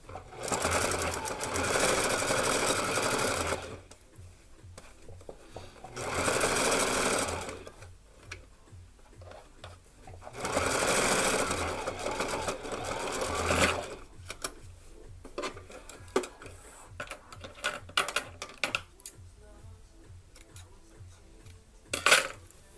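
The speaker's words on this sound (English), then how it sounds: "I'm trying to get it into the same stitch so that there won't be a double stitch on the neckline" A sewing machine stitches along a blouse neckline in several loud, close bursts of rapid whirring. Quieter pauses come between the runs, filled with slow ticking stitches and small handling clicks.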